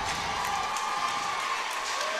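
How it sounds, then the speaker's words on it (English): Steady crowd noise rumbles through a gym during a Lady Tigers state semifinal basketball game, a continuous wash of cheering and chatter at moderate loudness. "How about this crowd for the Lady Tigers?"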